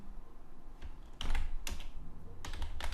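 Close, steady typing on a computer keyboard with quick clustered keystrokes and a few louder presses in short bursts, no voice.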